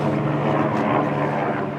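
A helicopter passes overhead at a winter reindeer race at a market in Jokkmokk, giving a loud, steady rotor and engine drone that fills the whole stretch.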